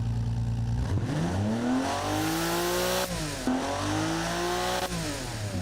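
A Group B rally car engine in a car-building video game revs repeatedly, its pitch sweeping up and sagging back down in slow, labored surges, loud and alone.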